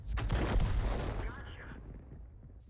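Tank cannon fire in a video game: a heavy booming blast with a rumbling low tail that slowly decays over a couple of seconds, loud and close.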